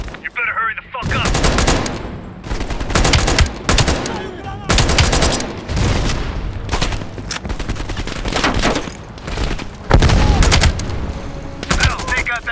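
Machine gun fire in Call of Duty rattles out in loud, rapid bursts, long volleys broken by brief gaps, close and dominant throughout.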